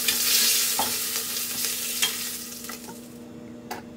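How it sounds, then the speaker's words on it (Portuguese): Pork ribs browning and searing in a pot, giving a steady sizzle with a few sharp spatters and stirring clicks, fairly close and without voices. "E vou continuar dourando aqui, selando aqui toda a carne e já volto."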